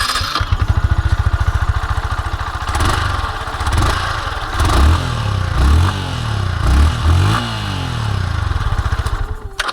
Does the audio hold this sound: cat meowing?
no